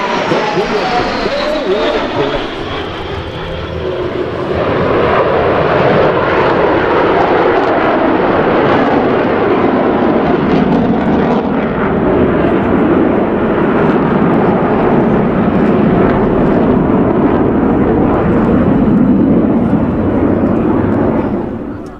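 U.S. Navy Blue Angels jets flying break turns at the 2017 New York Airshow: a loud, sustained jet roar rises and holds close overhead for about twenty seconds, with an announcer speaking over it.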